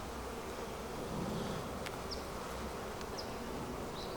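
A dense, steady hum of many honey bees buzzing close by on a frame of capped honey in winter in Georgia, with a few individual bees whining past against the continuous drone.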